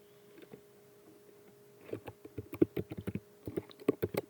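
Fast bursts of typing on a computer keyboard, quiet close clicks that start sparse and speed into clustered keystrokes, with no talking.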